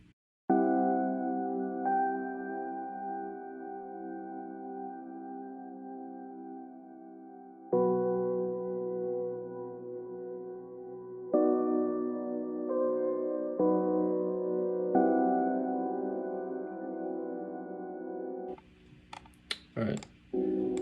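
Space piano atmosphere sample with heavy EQ cutting lows and highs plays a simple chord progression, sustained chords changing every few seconds and repeating, loud and alone, then giving way to brief clicks and a voice at the end.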